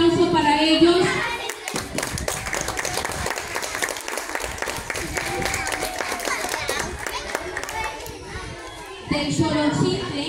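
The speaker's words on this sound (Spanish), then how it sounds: "Un aplauso para ellos." Audience at a primary school program claps in dense, sustained applause with children's voices and chatter mixed in, fading toward the end before talk resumes.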